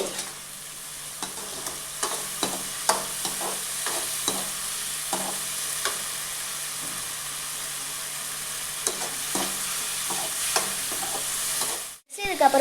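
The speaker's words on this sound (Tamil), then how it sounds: "புளி கரைச்சி ஊற்றினதை நல்லா வணக்கிக்குவோம்" Tamarind water and tomato mixture stirred and sautéed in a pan for a dried fish gravy, with a steady close sizzle broken by repeated scraping stirs of a spoon against the pan and a brief bump near the end.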